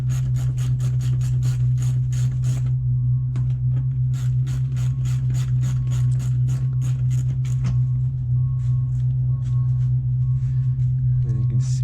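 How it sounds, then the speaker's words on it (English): Small 8mm screws are backed out of the plastic skid plate beneath a 2011 Mustang V6, a steady run of quick ratchet clicks in bursts over a constant low hum, close up with no talking. "Got to remove this plastic skid plate to access the oil filter"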